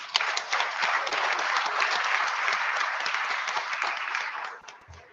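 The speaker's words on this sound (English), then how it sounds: "Can we just give her another round of applause?" A crowd applauds steadily and loudly, many hands clapping in a dense wash that fades out near the end.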